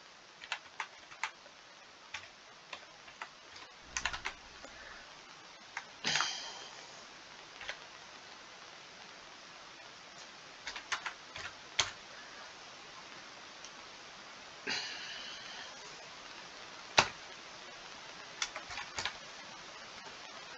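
Computer keyboard typed on sparsely, giving faint, scattered key clicks with a few louder taps and pauses between them over a soft steady hiss.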